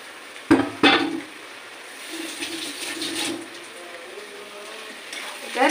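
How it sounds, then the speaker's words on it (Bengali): Marinated chicken is tipped into a pan of frying onion, ginger and garlic, landing with two loud splashing thumps, followed by a low, steady sizzle and occasional stirring scrapes. "এবার আমি ম্যারিনেট করা যে চিকেনগুলো ছিল, এবার এগুলো আমি দিয়ে দেবো, দিয়ে একটু এর সাথে ভেজে নেবো।"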